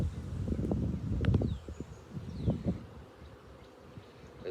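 Honeybees buzzing on a brood frame caked with bees, lifted from a hive after a swarm; a close, continuous low hum with fluctuating intensity and some faint rustling.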